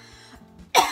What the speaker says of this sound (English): that cough was getting on my nerves